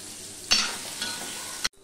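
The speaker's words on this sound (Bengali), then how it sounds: "এবার আলুটাকে আমি ভালো করে ভেজে নেব" Potatoes and green chillies frying in oil in a pan, a sudden burst of loud sizzling as they go in, steady crackling with stirring, then an abrupt stop.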